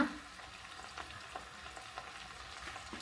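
Hot oil poured over chicken mandi in a pot, sizzling and crackling steadily with a constant bright hiss, close and fairly loud throughout.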